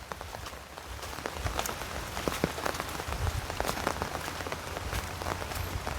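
Rain falls steadily on surfaces outdoors, a dense hiss scattered with sharp individual drop taps, constant and moderately close with no one speaking.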